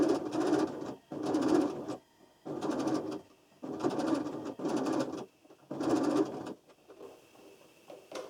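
A sewing machine stitches two fabric pieces together, right sides facing, while making a homemade bustier top. Five loud bursts of stitching are separated by short pauses, with no voices.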